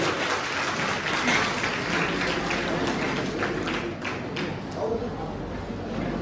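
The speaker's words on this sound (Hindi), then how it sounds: "ताली बजाकर करके जो स्वागत करते हैं" An audience at a community programme applauds to welcome a guest onto the stage, producing dense, sustained clapping from many hands with murmuring voices mixed in.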